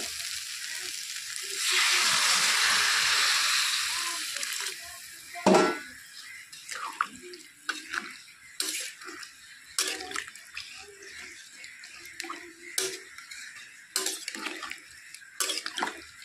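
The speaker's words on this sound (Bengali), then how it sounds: "এখন আমি এর মধ্যে দিয়ে দেব ঝোল।" Broth is poured into a pan of jackfruit and prawn curry, giving a gush of liquid lasting a couple of seconds, then a loud clatter and a series of scattered utensil clinks and scrapes against the pan.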